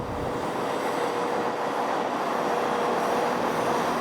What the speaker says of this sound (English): this train has its fuel turned on